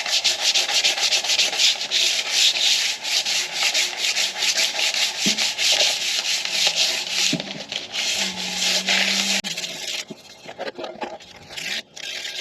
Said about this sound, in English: you should have sanded off majority of the JB Weld